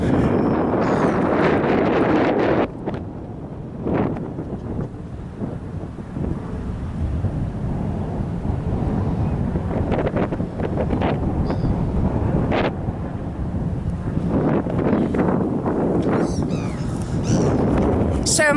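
Wind at the beach buffets the microphone with heavy, low rumbling gusts that never let up, while a voice talks beneath the roar.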